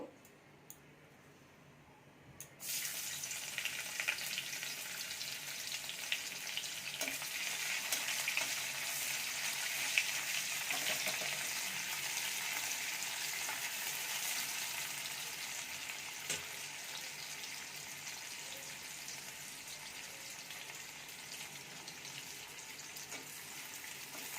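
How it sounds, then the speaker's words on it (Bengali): Onions frying in a pan alongside fish, a sudden loud sizzle bursting in after a quiet start and then holding as a steady, close hiss with faint stirring. "পেঁয়াজ ভেজে নিয়েছি হালকা করে"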